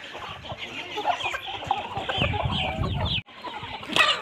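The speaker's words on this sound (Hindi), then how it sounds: "इधर वो उस टाइम की मुर्गियाँ लड़ रही हैं" Aseel chickens on a farm clucking and squabbling while fighting at grain-feeding time, a dense, busy chorus of close clucks and squawks throughout with a brief lull near the end, no talk.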